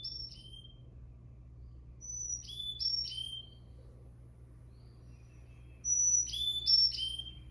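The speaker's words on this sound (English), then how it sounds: "here's the Carolina chickadee. See, it has a 4-note song" A Carolina chickadee sings its whistled four-note song, thin high notes in two short phrases with a pause between, fairly clear against a quiet low background hum.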